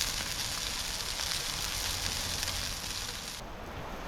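A burger sizzles and fries steadily in a titanium pan at a beach wild camp, a continuous close hiss with no talking.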